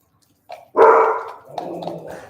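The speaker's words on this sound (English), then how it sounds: "excuse my dogs" A dog barks loudly nearby in a short burst, followed by lower muffled yips and grumbling that trail off.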